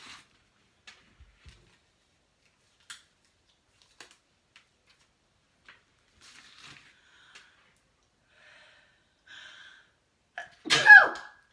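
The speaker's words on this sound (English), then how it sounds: "has a sneeze" A woman gives a single sharp, close sneeze at the end, after near silence broken only by faint small ticks.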